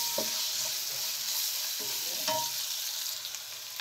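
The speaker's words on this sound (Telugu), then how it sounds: "1 స్పూను అల్లం వెల్లుల్లి పేస్ట్ వేసుకోవాలి. వేసుకొని వాసన పోయేదాకా వేయించుకోవాలి." Ginger garlic paste fries with onions in a pan, a steady bright sizzle broken by several soft scraping stirs, close and without any voices.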